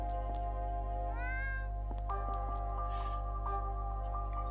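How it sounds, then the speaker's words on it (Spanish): A cat in the Gravity Rush video game meows once, a short rising-falling call, heard over a steady loud game hum and music. "Ah, mira, aquí hay otro gato. Miau. Miau."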